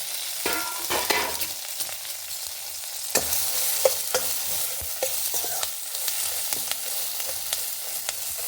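Mustard seeds, fenugreek, chana dal and urad dal fry in hot oil as a tempering, a continuous close sizzle with scattered crackles and stirring scrapes throughout, no one speaking.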